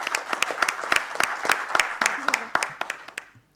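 Audience applauding at a young-entrepreneurs wine event, individual claps distinct and rhythmic, thinning toward the end as the clapping fades out.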